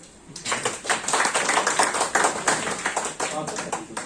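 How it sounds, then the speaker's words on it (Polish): A crowd claps steadily, a dense patter of many hands that carries on through the whole stretch, with voices mixed in underneath. "Zobacz, nawet żona klaskała"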